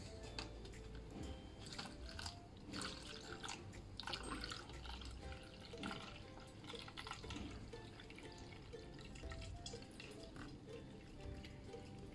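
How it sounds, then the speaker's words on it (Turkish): Liquid for mesir paste trickles slowly through coffee filter paper, a soft, steady close-up dripping and trickling that goes on quietly with no talking. "süzme kağıdıyla bunun yardımıyla yavaş yavaş dibindeki tortuları almadan aktaracağım"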